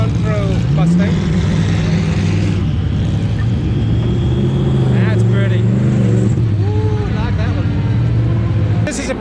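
A Ford Mustang Dark Horse GT3 race car roars past at Daytona, its loud engine note rising and falling with gear changes as it sweeps by close, with someone talking over it.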